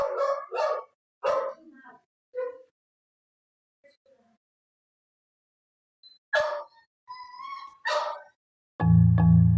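A dog whines and barks in close, loud bursts, pausing briefly before another round of yelps and whimpers, then a sudden loud buzzing noise at the end.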